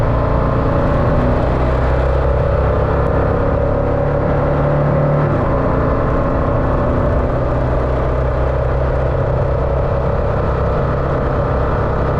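A struggling motorcycle engine held at high revs to keep it from stalling, giving a loud, continuous close drone with a rough, steady tone.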